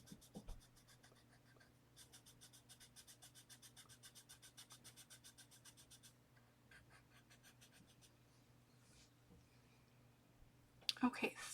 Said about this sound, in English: I'm noisy with these pencils.